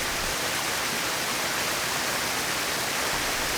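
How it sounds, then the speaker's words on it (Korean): Suok Waterfall, fed by water running down from Joryeongsan, drops over a cliff with a constant, full roar of falling water, unbroken and without voices. "조령산에서 흘러내려온 물줄기가 절벽 아래로 떨어지며 장관을 이루는"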